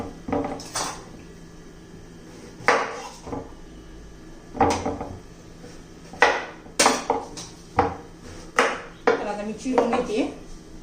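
A knife chops bottle gourd into fine pieces on a board in a home kitchen, producing a series of sharp, close knocks in uneven clusters, with a voice briefly heard in the background.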